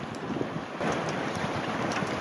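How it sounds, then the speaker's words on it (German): Steady wind rushing past on a Varianta 65 sailboat sailing downwind with the breeze from astern, a broad, loud hiss of air and buffeting on the microphone with faint water wash beneath. "Wir haben achterlichen Wind."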